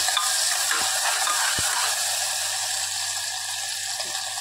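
Onion softening in a pan gives a continuous close sizzle, with a few soft knocks from stirring and a low steady hum beneath, no voices.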